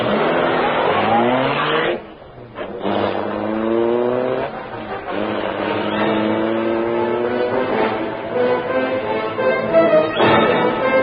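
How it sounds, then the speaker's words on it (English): The Black Beauty, a gleaming crime-fighting car in an old radio serial, roars to life, its engine loud and close, revving hard through rising gear sweeps as it speeds off, with no voices over it. "The great car roared into life."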